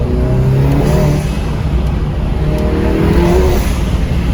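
A Volkswagen GTI with an IS38 turbo and MST intake revs under partial throttle, its loud engine drone steady and close throughout, with the turbo spooling up on top.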